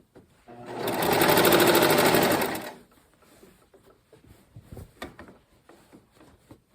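A sewing machine stitches a fabric seam in one steady, loud run of about two seconds, then stops, leaving faint handling noises and light rustling.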